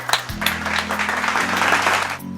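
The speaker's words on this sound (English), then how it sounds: "clap yourselves for that, guys" A room full of people claps together for a couple of seconds after a classroom debate, a dense patter of hands over a low background hum.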